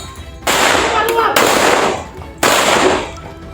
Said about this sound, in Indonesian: Polisi yang bersiaga langsung membalas dengan tembakan gas air mata dan tembakan peringatan